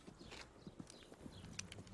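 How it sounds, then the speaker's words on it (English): Horse hooves clip-clop steadily at a walking pace in a barnyard setting, a moderately quiet, regular rhythm of hoof strikes with faint background noise and no talking. "Put McDaniel's horse in the barn"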